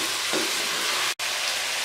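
Chicken biryani masala frying steadily in a pan, a continuous close crackling sizzle with a faint stirring scrape early on and a brief dropout near the end.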